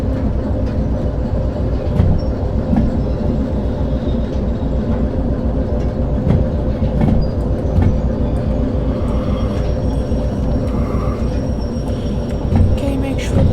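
Train running in the railway simulation game Derail Valley, on a forest sawmill route: a steady loud rumble with rhythmic clatter throughout, close and continuous, with no other sounds on top.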